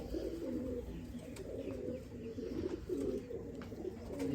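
Sialkoti pigeons coo in soft, repeated rolling phrases, close by and faint, with no talking over them.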